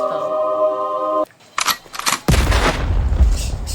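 A gunshot sound effect from a Bengali comedy drama: a tonal sound gives way to a brief silence, then a few sharp cracks ring out, followed by a loud, sustained broadband blast that fills the rest of the moment.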